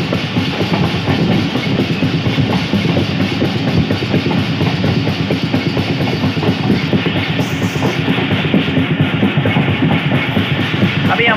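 A train rolls along the tracks near Mahmood Kot yard with a loud, continuous rumble and a steady clickety-clack from the wheels. It stays close and even throughout, with no speech.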